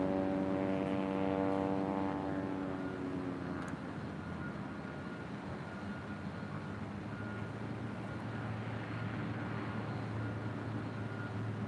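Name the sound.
airplane taking off from runway at LAX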